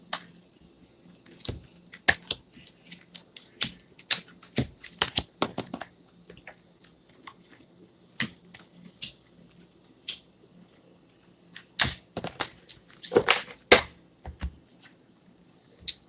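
Tarot cards being shuffled and drawn, heard as quiet, sparse, crisp snaps and flicks scattered irregularly in a silent room, with brief flurries of handling.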